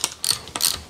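Ratcheting clicks as a stuck engine is rolled over by hand a quarter turn at a time, three loud bursts of rapid pawl clatter separated by short pauses, close and alone.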